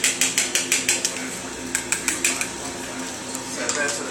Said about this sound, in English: Give that batter a little mix up.